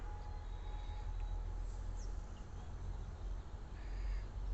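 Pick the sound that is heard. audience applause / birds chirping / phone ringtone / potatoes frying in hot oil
birds chirping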